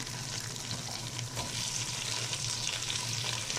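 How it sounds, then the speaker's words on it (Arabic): Tomatoes and onions sauté in a pot for lentil soup, giving a dense, even hissing sizzle that stays loud and steady, with no voices. "شوح كده بالطماطم شويه"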